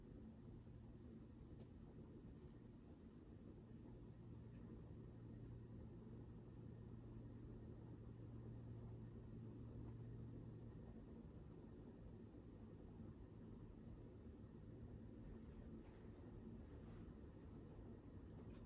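A 1986 Casablanca Spirit of Saturn ceiling fan runs at speed 5, giving a faint, steady low whir and rumble with a broad airy hiss throughout.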